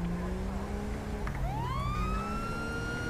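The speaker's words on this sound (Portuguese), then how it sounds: "Vamos ligar a sirene aqui." A police car siren in the video game GTA V wails with a rising, sweeping tone over engine rumble, close and steady with no talk.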